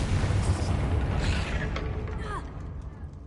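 A Confringo blasting spell goes off in the game Hogwarts Legacy, a deep booming burst with rumbling low end that tails off into fainter crackles and sweeping effects, with a voice briefly present.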